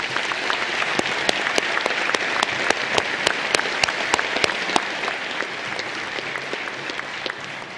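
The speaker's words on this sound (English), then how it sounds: "give them all a round of applause right now" Steady applause from a graduation ceremony audience, dense continuous clapping with sharper individual claps cutting through, sustained at even loudness throughout.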